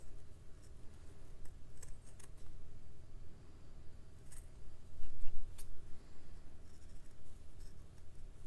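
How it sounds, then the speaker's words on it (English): Quiet scissors snip through layers of fabric in small, irregular cuts over a low steady background hum. "I just want to take my scissors and just trim this up ever so slightly"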